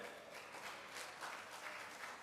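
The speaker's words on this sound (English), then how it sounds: "Let's give a round of applause, ladies and gentlemen." Applause from a conference audience, a soft, steady patter of many hands heard from a distance, faint and continuous throughout.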